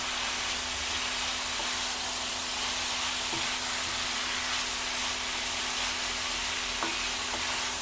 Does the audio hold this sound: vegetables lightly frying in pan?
yes